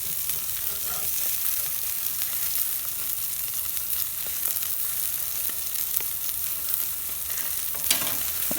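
Thick burgers sizzle steadily on a cast-iron Lodge Sportsman's Grill, a dense, even crackle with occasional sharper pops, close and continuous, no voices.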